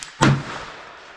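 A single sharp rifle shot firing an AAC 77 grain Sierra MatchKing 5.56 NATO round on an outdoor range, loud and close, with a short rumbling decay afterward.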